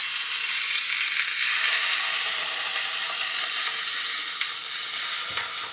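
Marinated kanthari chicken pieces fry in hot oil with a loud, continuous close-up sizzle and crackle, punctuated by a few sharper pops.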